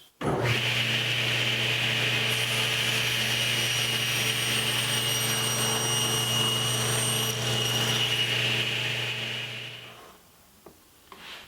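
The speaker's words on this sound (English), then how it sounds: "Next, I'll cut the filler blocks that will be attached to the bottom of the leg" A chop saw with a stop block cuts old shop-cutoff wood into filler blocks, a loud steady motor whine with a strong hum running about ten seconds before spinning down, then a brief knock.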